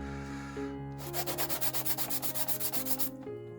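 Rhythmic rubbing strokes of sandpaper on wood, about a dozen quick back-and-forth passes, close and distinct over a faint background hum.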